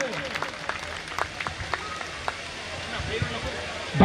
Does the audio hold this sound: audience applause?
yes